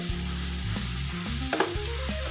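Vegetables sautéing with salt in a pan give off a steady sizzling hiss with a few stirring scrapes, playing under prominent tonal background music throughout.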